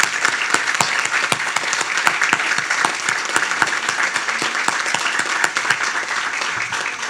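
Loud, dense applause from an audience recognising healthcare staff at a National Health Center Week event, many hands clapping steadily and close for the whole stretch with no voices on top.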